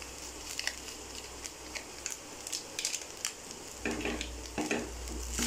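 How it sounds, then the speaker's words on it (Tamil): A spoon stirs Happima fried rice mix into rice in a pan, with soft scraping and light clinks over a faint sizzle. Louder bursts of stirring arrive toward the end. "இப்போ சேர்த்து நல்லா மிக்ஸ் பண்ணி விட்டுக்குவோம்"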